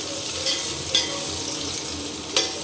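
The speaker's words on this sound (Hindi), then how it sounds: "थोड़ा अच्छे से भूनते हैं अभी। तो भुन ही रहा है साथ में" Vegetables fry in a pan for a bhog prasad dish, a continuous soft sizzle with a couple of brief scraping stirs standing out.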